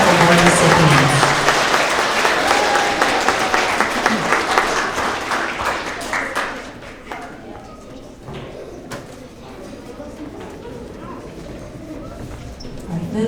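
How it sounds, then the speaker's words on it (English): An elementary school audience at a winter award assembly for third to fifth graders claps loudly for award recipients; the applause swells, then tapers off after several seconds, leaving scattered claps and murmuring. "Let's have another round of applause for all of our Growth Mindset Award recipients."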